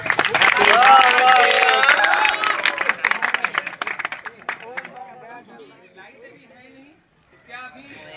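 Audience of students and guests clapping loudly at a school farewell ceremony, with cheers and chatter mixed in; the dense applause fades after a few seconds into scattered claps, murmuring voices and a pause before talk resumes.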